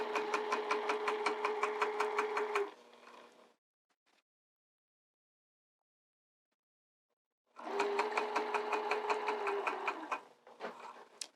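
A sewing machine stitches a skirt seam in two close, fast, steady bursts of rhythmic whirring and clatter, separated by a long silence, with a few faint handling knocks afterwards and no talking.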